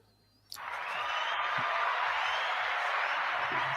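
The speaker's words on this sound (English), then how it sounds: "Let's get some claps in here as I bring them to the stage." A studio audience breaks into sustained applause as a guest is brought to the stage of a faith talk show, rising abruptly from near silence into a dense, steady wall of clapping that holds loud to the end.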